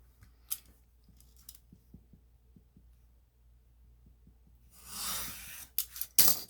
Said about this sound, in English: And use my scissors to cut this part out.